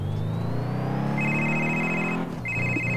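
Phone ringing inside the Test Drive Unlimited 2 driving game, a steady electronic ring tone repeating twice over a continuous low car engine drone, with a short gap between the two rings.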